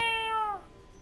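A cat meows once in the video game Ratchet & Clank: A Crack in Time, a clear, loud, drawn-out tonal call that falls in pitch and fades into quiet game background, with no talk over it.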